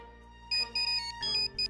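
A mobile phone in a Marathi TV serial scene plays a bright electronic ringtone in short repeating melodic bursts, fairly quiet and alone with no talk over it.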